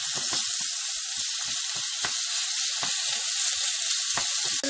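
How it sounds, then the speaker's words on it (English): Minced meat sizzles in hot oil in a pan, a steady hiss broken by sharp pops and crackles scattered irregularly throughout, moderately loud and with no talking. "Now I will add meat"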